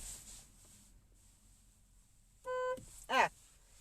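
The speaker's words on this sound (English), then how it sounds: "Didn't mean to honk my horn." A single car horn honk, a steady tone held for about a quarter second, followed by a brief higher squeak; quiet background otherwise.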